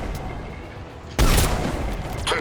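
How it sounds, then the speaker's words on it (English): Sniper rifle fire in the video game Mass Effect: after a quiet stretch, a single loud, sharp shot bursts in and rings out briefly, followed by a fainter crack near the end. "Sniper fire."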